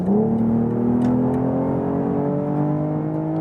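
A BMW six-cylinder engine revving up under hard acceleration in sport driving mode, its smooth rising drone loud and close, sustained throughout with no voices.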